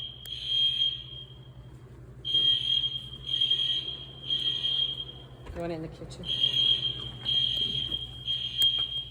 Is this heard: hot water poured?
no